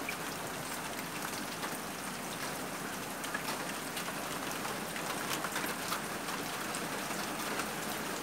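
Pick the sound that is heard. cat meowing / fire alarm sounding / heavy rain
heavy rain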